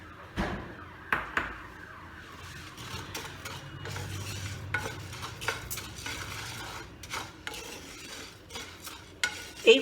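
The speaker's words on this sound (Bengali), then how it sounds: "এই বিউলির ডালটাকে আমি ভেজে নেব।" Biulir dal (urad dal) frying in a pan, stirred with a utensil: scraping and clinking against the pan over a soft sizzle, with scattered sharper knocks, close and moderately quiet.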